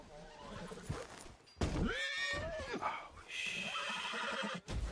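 A horse in the video game Red Dead Redemption 2 lets out a loud, wavering whinny amid clattering hooves and game effects, with no talk.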